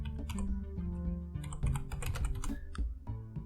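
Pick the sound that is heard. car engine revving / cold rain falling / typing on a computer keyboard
typing on a computer keyboard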